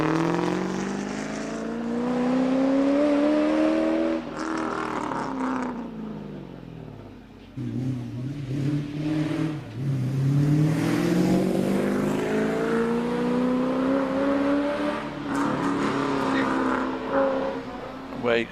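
The engine of a Holden Commodore rally car, a left-hand-drive machine, climbs a hill course. It roars loudly and steadily, rising in pitch through the gears with brief lifts between them, and stays close and continuous.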